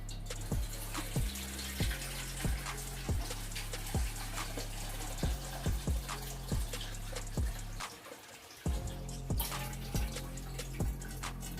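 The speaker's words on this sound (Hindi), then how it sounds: "तो इसमें और पानी ऐड कर देंगे हम।" Water poured from a bowl into a cooking pot on a low flame while making masoor dal, a continuous splashing stream heard close up, with a steady rhythmic ticking running through it.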